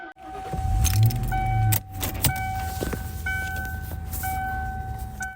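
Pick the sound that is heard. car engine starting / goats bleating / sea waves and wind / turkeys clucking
car engine starting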